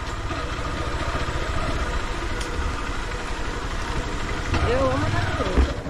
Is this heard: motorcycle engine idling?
yes